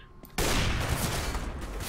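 Gunfire in a video game starts abruptly after a brief quiet moment, followed by a loud, dense, continuous burst of shots.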